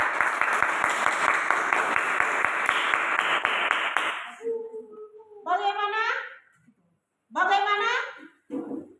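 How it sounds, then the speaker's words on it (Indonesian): A classroom of children claps for a group of classmates, a dense, steady round of applause lasting several seconds before it stops and children's voices take over. "Kita tepuk tangan dulu."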